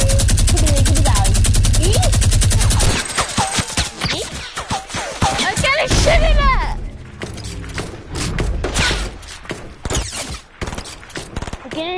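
Gunfire in the video game Fortnite: dense, loud bursts of rapid shots and thuds mixed with game noise, with people talking excitedly over it.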